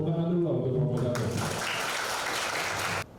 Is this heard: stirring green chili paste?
no